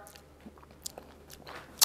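Quiet, close chewing of a mouthful of potato salad, soft wet crunches and smacks in an irregular rhythm, with no talking.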